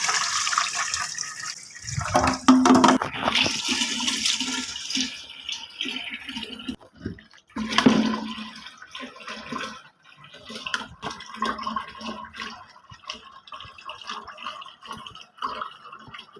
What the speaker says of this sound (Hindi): मैं पहला पानी उतार रही हूँ।